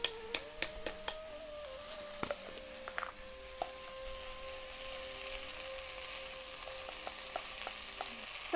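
Chitruk wild vegetable frying in oil with spice paste, a steady soft sizzle with sharp crackles and spoon taps scattered through, close and alone without talk.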